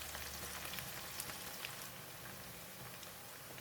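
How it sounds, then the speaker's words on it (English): Tempura-coated anchovies fry in hot oil with a steady, faint crackling sizzle, fine popping spread evenly throughout with no voices. "Sprinkle the anchovies on the hot oil."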